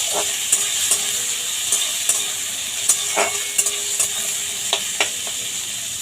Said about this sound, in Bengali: এবার জলটা ঝরিয়ে ভেজে নেব।